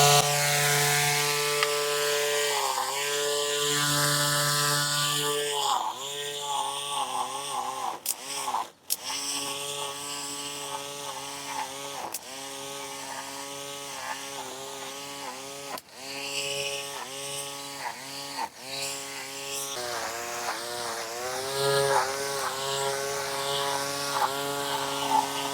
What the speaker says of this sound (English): So it cuts, it does actually string trim, but as soon as you get a little bit deeper into that grass